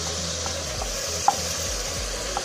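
Onion, ginger, garlic and tomato are stirred into mutton frying in a pan for achari gosht, giving a steady close sizzle with soft scraping stirs and a couple of sharp utensil clinks.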